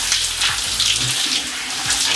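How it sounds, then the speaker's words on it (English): Cold shower water running and splashing steadily onto a person's face, a continuous close hiss of spray with small splatter changes and no talking. "the most difficult part was that water that's about to hit my face for the very first time"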